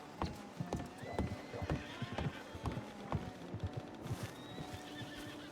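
Horse from Red Dead Redemption 2 neighing and whinnying repeatedly, close and loud, with hoof clip-clops and game ambience layered underneath.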